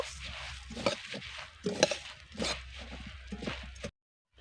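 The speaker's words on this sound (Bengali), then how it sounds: "এবার এর মধ্যে দিয়ে দিচ্ছি মুড়ি মুড়ি দিয়ে গুড়টাকে আমি মোয়া তৈরি করে নেব ভালো করে মিশিয়ে নেব" Puffed rice is stirred into hot orange-flavoured jaggery in a pan to make moa, giving close, intermittent scraping and crackling rustles in uneven strokes that stop abruptly near the end.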